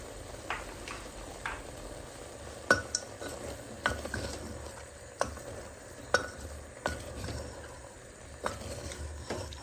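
Onion, garlic, ginger and crushed timur pepper frying for a Nepali goat curry, as a soft sizzle runs under repeated sharp clinks of a spoon scraping and tapping the pan.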